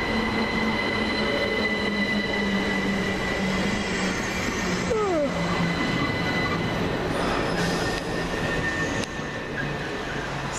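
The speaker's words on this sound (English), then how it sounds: "Takes up the 1432, Southern Railway service from Sutton to London Victoria" A Southern Railway class 377 electric train on the Sutton to London Victoria service rumbles steadily and loudly close by, with wheel squeal sweeping through the middle, a constant electric whine, and no talking.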